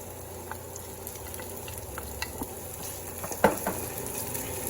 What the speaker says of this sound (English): And then we're going to add our garlic. Let that cook.